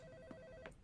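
A telephone rings in the game Home, a faint steady electronic ring tone with a couple of soft clicks, quiet and distant.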